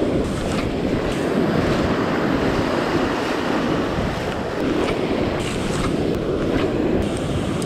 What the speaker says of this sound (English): there's nothing to slow down the wave force from breaking right on shore